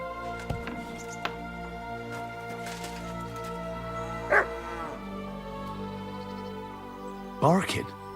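Dog barking in the medieval video game Kingdom Come Deliverance 2, with a few sharp barks near the start and a louder burst of barks near the end, set against steady game ambience and music.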